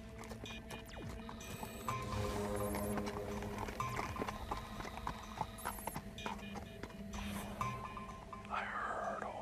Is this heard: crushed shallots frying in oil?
no